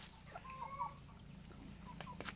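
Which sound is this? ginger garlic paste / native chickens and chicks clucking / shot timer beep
native chickens and chicks clucking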